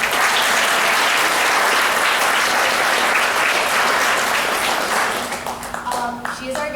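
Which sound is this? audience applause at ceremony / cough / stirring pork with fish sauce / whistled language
audience applause at ceremony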